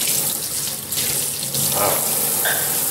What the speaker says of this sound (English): So now it's time to rinse the salmon first. Rinse the salmon off.